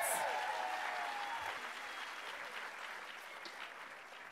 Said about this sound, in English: one more round of applause is uh, due for that.